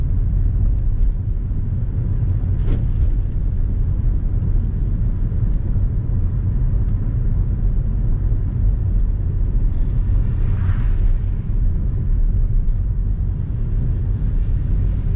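Steady engine rumble and road noise from inside a car driving on a narrow, bendy side road during a UK learner driving test, a constant loud hum with no talk.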